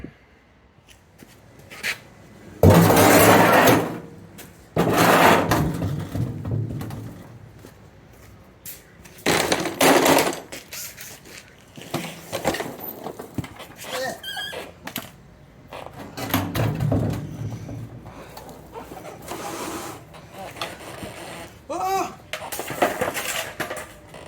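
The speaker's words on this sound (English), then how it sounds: "So let's go ahead and throw this tank in." A fuel tank goes into a 1986 Toyota Tercel 4WD with scattered metallic clunks, scrapes and knocks. A few loud bangs stand out among softer rattling handling noises, and someone talks between them.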